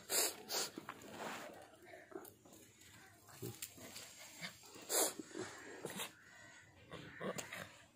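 A dog gives a few short, sharp barks and snorts, spaced irregularly, with quieter whimpering sounds between them at a moderate distance.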